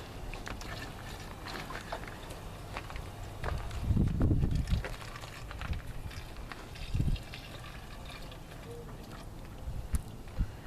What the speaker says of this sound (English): Your Uncle Phil's doing his favorite thing, putting water in something